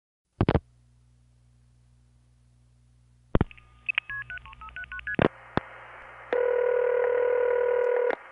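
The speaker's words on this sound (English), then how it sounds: "Long Island, from Neil's house, the call would go through like this. But from my house, it went through like this." A landline telephone call goes through: brief clicks, a low hum, then a rapid run of dialing tones and line clicks, ending in a loud steady multi-tone signal, close and clear with no voices.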